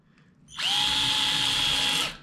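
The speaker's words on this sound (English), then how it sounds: "We're drilling through both cortices, so we're placing a bicortical screw" A high-pitched surgical power drill whirs steadily for about one and a half seconds while drilling through both cortices of bone, starting abruptly and stopping cleanly, close to the microphone.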